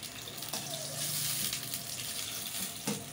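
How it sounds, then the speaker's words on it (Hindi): Chopped onion frying in hot oil in a pan, a steady close hiss and sizzle with faint crackles throughout, no talking. "अब ये देखिए तेल में मैंने प्याज डाल दी है"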